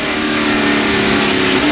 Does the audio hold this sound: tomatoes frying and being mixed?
no